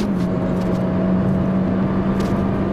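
MINI Cooper S with a 163 hp engine and a 1150 kg body cruising on a motorway, heard from inside as a steady, continuous engine drone and road hum at constant speed with no talking.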